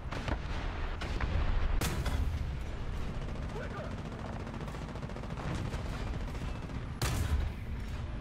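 Sharp, heavy gunshots burst out over a constant loud rumble in the video game War Thunder, with a couple of especially strong blasts standing out among the scattered firing.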